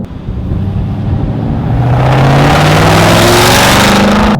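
A 2010 Shelby GT500 Mustang with a catless X-pipe and Flowmaster Outlaw mufflers revs hard, its exhaust swelling into a very loud, rising roar held close up.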